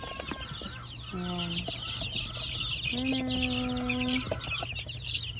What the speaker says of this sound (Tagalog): Andito tayo ngayon sa mga sisiw.